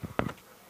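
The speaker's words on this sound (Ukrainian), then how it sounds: "Ні, це муха." A fly buzzes briefly close by, a quick low drone that fades into faint background noise.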